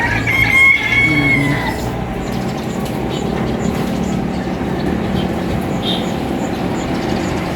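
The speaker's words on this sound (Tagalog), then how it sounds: "Nagigising na po ang mga manok." Chickens cluck and a rooster crows at dawn around 5:55 in the morning, loud and close at first, then settling into steady background noise with no one talking.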